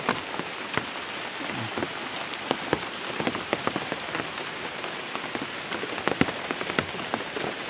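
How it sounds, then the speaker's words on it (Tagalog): Steady rain patters on banana leaves and the ground around a shelter, with scattered louder drops breaking through a dense, continuous wash of sound. "panay na ulan talaga par"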